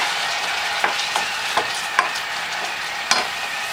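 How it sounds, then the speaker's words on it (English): Cabbage with apple cider vinegar sizzles steadily in a pan, a constant hiss broken by a handful of sharp clicks and scrapes from stirring, close and without voices. "Now, the cabbage is cooking."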